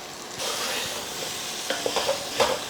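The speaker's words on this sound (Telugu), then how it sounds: "కారం వేయగానే మటన్ వేసేస్తున్నా, కడిగి పెట్టుకున్న మటన్." Mutton frying in hot oil with turmeric and chili powder, a loud, steady sizzle that starts abruptly as the meat goes in, with a few clinks and stirring scrapes near the end and no talking.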